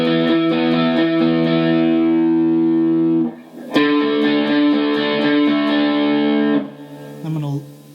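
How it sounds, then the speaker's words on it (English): Electric guitar through a VHT V-Drive overdrive pedal with heavy clipping, dense sustained distorted chords that are loud and close, broken by a brief gap before another long chord and a short trailing note. "Very high gain. Sounds really good. I don't know if you could hear that, but there's a massive amount of clipping on that."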